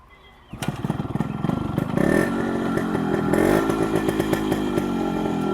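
A Yamaha RX100 motorcycle starts and settles into a steady idle with a sharp, crackling exhaust note, loud and close, running alone with no talk.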